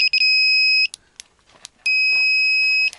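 Electronic fishing bite alarm in a fishing tent, giving two loud, steady high-pitched electronic tones, each about a second long, separated by a short gap of faint clicks and handling noise.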